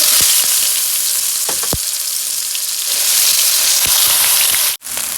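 Onion paste fries loudly in hot oil with cumin, whole garam masala and dried red chillies, giving a dense, constant close sizzle with a few sharp spatter pops.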